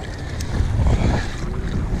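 Wind blowing across open sea during kayak fishing for tuna, a constant loud rumbling buffet on the microphone with washing water beneath, steady and close, with no voices.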